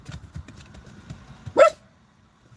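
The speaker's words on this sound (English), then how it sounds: "I said something about that barking." A dog gives a couple of sharp barks, loud and fairly close, after a stretch of faint rhythmic background noise that sounds like hooves.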